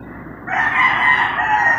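A backyard flock of pet chickens on a small farm, with a close, loud rooster crow rising out of quieter background clucking; no one speaks.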